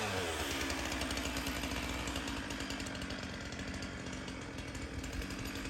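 A chainsaw drones continuously at a distance in the mountains, its buzzing engine steady and unbroken throughout.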